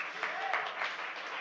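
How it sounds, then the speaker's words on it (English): An audience claps in a soft, brief wash of scattered hands, heard from a distance beneath a speaking voice. "We can clap for that."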